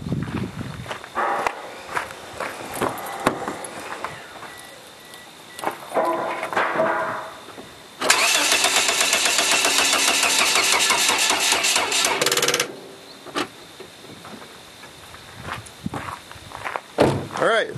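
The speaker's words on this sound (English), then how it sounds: "the mini boost pack can turn over the car just fine for, you know, 3-4 seconds and tapers off quite quickly" A car engine cranks from a 12V mini boost capacitor pack, whirring rapidly for about four seconds then tapering off, preceded by footsteps and clicks, with someone talking before and after.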